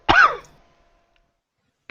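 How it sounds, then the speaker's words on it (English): One short, harsh cough bursts out close to the microphone, then fades into near silence. "That cough don't sound good."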